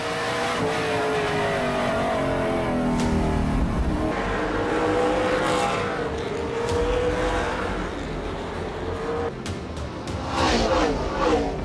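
Race cars at a Canadian drag racing event roar and rev on the track, with loud, continuous engine noise and passing cars throughout, and a voice talking faintly underneath.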